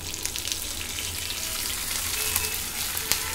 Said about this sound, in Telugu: దీన్ని కూడా కొంచెం ఆయిల్ వేస్తున్నానండి. ఇప్పుడు దీనిలోనే గోంగూర ఉడికించుకుందాము.